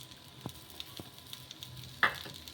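A peanut and moong dal dosa sizzles quietly in oil on a hot pan, a faint steady crackle broken by a few soft taps and one sharper clink.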